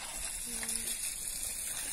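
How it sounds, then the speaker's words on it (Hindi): Water gushes steadily from an open pipe while turnips and potatoes are washed outdoors in a village, a continuous close hiss with a faint brief voice beneath. "इनको इधर ही धोया जा रहा है, खुलेआम, खुले पाइप के खुले पानी से हैं।"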